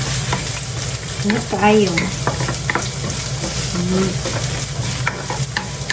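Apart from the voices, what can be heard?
sautéing onion and garlic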